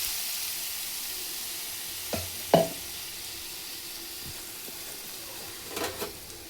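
Chutney with mustard seeds and curry leaves sizzles in a pan with a soft, steady hiss, and a utensil knocks and stirs it a few times. The sound is quiet and close.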